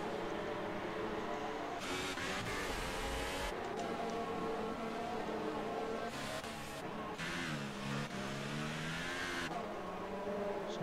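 Formula 1 race cars in F1 2018 at the Brazilian Grand Prix, engines whining through gear changes as several cars run close together, a steady loud mechanical drone that rises and falls throughout.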